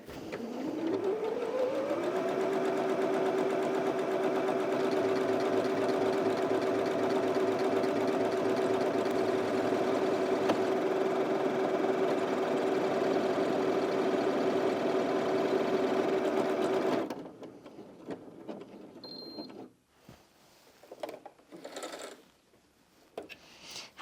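A Janome 360DC sewing machine stitches a buttonhole with a fast, steady mechanical whir for about seventeen seconds, then stops, followed by faint clicks and handling sounds.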